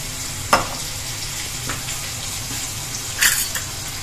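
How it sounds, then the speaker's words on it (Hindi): Water poured into a hot pan of oil with turmeric, garam masala and Kashmiri chili for an eggplant curry, giving a steady sizzle with a few sharp splashy bursts and stirring clatter, no talk. "और इसमें अब हम डालेंगे पानी।"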